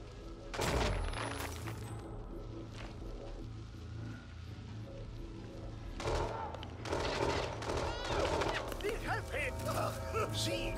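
Gunfire in the video game Hitman 2: several loud bursts of shots, one early and a cluster later on, over steady background game noise with some talk in between.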